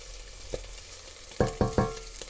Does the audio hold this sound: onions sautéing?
yes